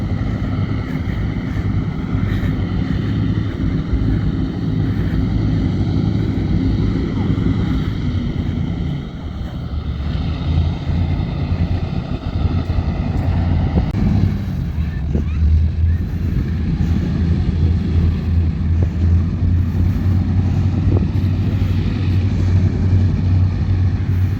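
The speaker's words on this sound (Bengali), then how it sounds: "জাহাজটা চালু করছে।" An Indian Coast Guard ship's engine runs as a steady, heavy low drone with a droning hum across the water, holding loud and constant throughout, with a person talking faintly at times.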